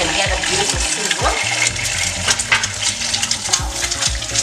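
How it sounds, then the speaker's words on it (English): An egg sizzles in hot frying oil, a continuous close crackle and hiss with occasional pops and clinks, heard under no talk. "You can get a beautiful sizzle."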